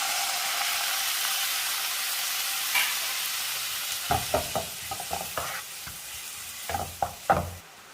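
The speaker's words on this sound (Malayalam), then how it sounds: "ഇതിലേക്കൊരു കാൽ കപ്പ് പുളിവെള്ളം ചേർക്കാം" A sizzling pan of masala for fish hisses steadily as tamarind water is added, then a series of sharp stirring scrapes and clatters follow in irregular bursts toward the end.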